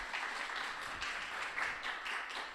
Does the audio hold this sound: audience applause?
yes